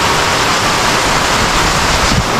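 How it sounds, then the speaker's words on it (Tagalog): Typhoon floodwater overflowing from across the road and rushing toward nearby homes, with heavy rain and wind, makes a loud, steady, broadband roar that continues unbroken throughout, with no voices. "Kaya pala yung tubig pumupunta na dito sa amin kasi sa kabila apaw na."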